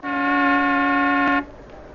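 A car horn sounding for a bride, one loud, sustained, brassy honk held for about a second and a half close by, then cutting off abruptly into quiet.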